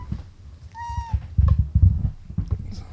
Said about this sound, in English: my cat keeps interrupting